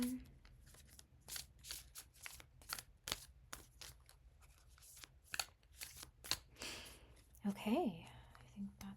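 A deck of cards is shuffled up close in a quiet room, a run of quick crisp riffles and soft slaps with a brief murmur of voice near the end.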